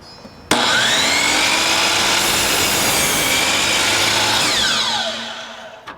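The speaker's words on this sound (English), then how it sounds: "so we have Julie now going to cut the wood on the miter saw" A miter saw slices through a piece of wood in one loud, steady cut of about five seconds, its motor whining up at the start and winding down as the blade finishes.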